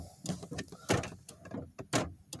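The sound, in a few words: car door being shut on a 2010 Mazda3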